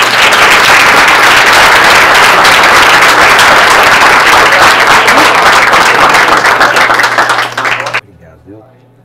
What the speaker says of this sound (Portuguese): Só umas palmas mais uma vez.